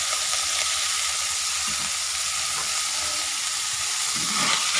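Pork stir-fried with fingerroot and chili paste sizzles steadily and loudly in a pan, a dense continuous hiss with faint stirring scrapes underneath, close up with no talking.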